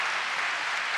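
Dense applause from a graduation audience in a hall, a brief burst of many hands clapping at a steady, loud level.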